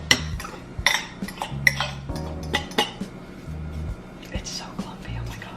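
Whisk clinking and scraping against a bowl while mixing clumpy banana bread batter, a run of sharp metallic taps and rattles close by over a low background hum.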